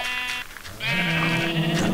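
Sheep in the video game Minecraft bleat twice, a short wavering cry followed by a longer, louder drawn-out bleat, close and clear with no talk over them.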